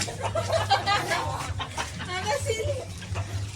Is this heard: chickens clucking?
yes